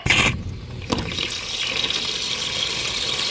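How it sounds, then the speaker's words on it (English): Water gushes from an outdoor spigot at an excavation site. A splashy burst opens the clip, then a steady rushing, hissing flow continues close by with no one talking. "I'll cut it on up here at the spigot and let it blow all the air out of it right quick."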